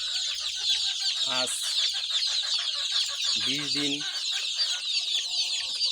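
A pen of 20-day-old Egyptian Fayoumi and local chicks keeps up constant high cheeping, with a few louder hen-like clucks breaking through, while someone speaks briefly over the flock.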